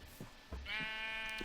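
A sheep in the Minecraft video game lets out a drawn-out bleat, close and clear, following a few soft thumps, with no speech over it.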